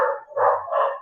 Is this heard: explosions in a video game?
no